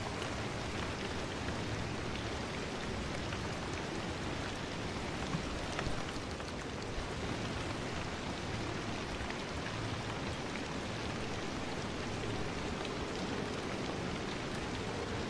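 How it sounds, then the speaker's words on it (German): Steady rain in the driving game Pacific Drive, a dense, even hiss of drops on surfaces that stays constant throughout, with no voices over it. "jetzt fängt das ja auch noch an zu regnen"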